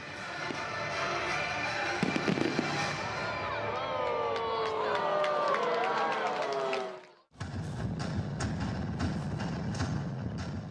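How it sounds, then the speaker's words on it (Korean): Festival fireworks burst over a night sky at an opening ceremony in Buyeo, with continuous crackling and popping, whistling rockets rising, a crowd cheering and voices throughout, a brief gap, then more dense crackle. "70번째 백제문화제를 알리는 폭죽과 함께 부여의 밤하늘엔 과거와 현재를 이어주는 불꽃이 화려하게 술을 놓습니다."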